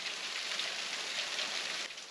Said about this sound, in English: That's not rain, that's hail.